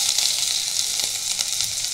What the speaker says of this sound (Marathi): इथे आपण लसूण टाकूया